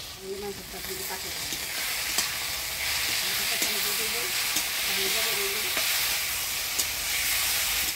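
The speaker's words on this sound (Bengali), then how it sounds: "মশলা দিয়ে কচুর লতিটা ভালোভাবে কষিয়ে নিলাম" Boiled taro stolons cook down with ground spice paste in a village kitchen, giving a continuous close sizzle with regular scraping and stirring knocks, and a faint tonal murmur in the background.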